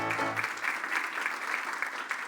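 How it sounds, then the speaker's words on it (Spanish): Church congregation applauding during a Holy Week service, a sustained round of clapping that starts over the tail of a voice and continues steadily throughout. "Denle un aplauso fuerte a Cristo porque Él es bueno."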